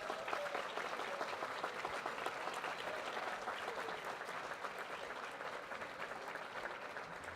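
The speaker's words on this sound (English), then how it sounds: "you don't have to hold your applause this time" An indoor audience gives sustained, even applause for hall of fame inductees at a women's basketball hall of fame ceremony, a dense wash of clapping with no talk.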